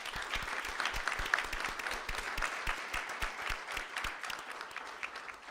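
A room of attendees at a school district board meeting applauding a guest, with distinct individual claps in a steady, moderately quiet round.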